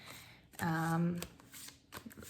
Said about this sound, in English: so let's take the cards. I'm gonna shuffle them.